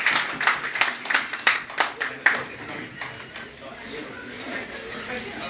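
Audience applauding the deputy mayor at a book launch ceremony: a short run of distinct, rhythmic claps from a small group, moderately close, that quickly dies away into soft room murmur and voices.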